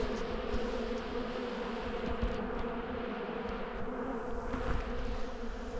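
Honey bees buzzing steadily around a beehive at an apiary, a dense continuous hum of many insects close by with no talking.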